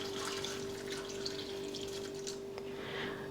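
Hot water streams steadily into a pot of chopped pumpkin and vegetables for soup, a continuous soft splashing pour close by.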